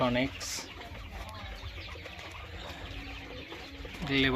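Busy chatter of many quail, chirps and calls overlapping throughout, with a voice speaking briefly at the start and end.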